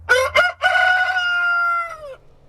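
A rooster crows a single long cock-a-doodle-doo, loud and close, the drawn-out call holding steady before tailing off, with faint low hum underneath.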